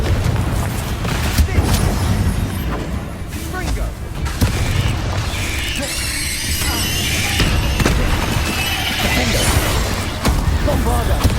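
Confringo fire spell blasts in the game Hogwarts Legacy, a loud barrage of booming, crackling explosions and shattering hits throughout a chaotic fight, with voices talking over the action.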